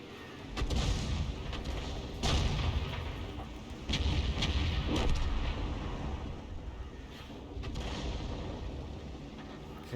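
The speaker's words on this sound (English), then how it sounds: "enemy Arty is now dialing in on us. They're getting it closer." Enemy artillery shells landing around a tank in a World of Tanks match, deep booming impacts arriving every couple of seconds over a low rumbling engine bed.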